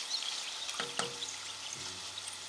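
Potato chips in hot oil, with a steady, faint sizzle and a few light clinks and scoops of a utensil partway through.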